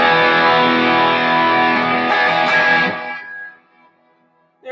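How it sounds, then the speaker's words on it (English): Electric guitar tone drenched in reverb and delay, a sustained rich chord ringing for about three seconds before a long echoing decay fades into near silence. "We need more reverb and a delay."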